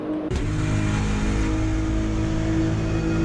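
A BMW M4 GT3 race car engine revs hard and holds a loud, sustained droning pitch as it pulls through a lap in a racing video game, close and continuous.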